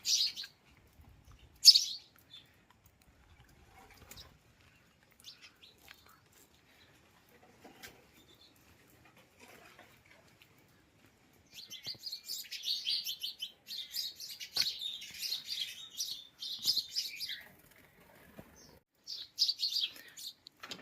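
Faint, distant birds chirp in scattered bursts around a village home in Gujarat, with a longer stretch of twittering later amid quiet pauses.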